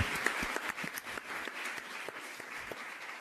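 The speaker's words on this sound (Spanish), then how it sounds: "voy a pedir un aplauso para Gustavo" Steady applause from a crowd fills the space, many hands clapping continuously at a moderate, even level.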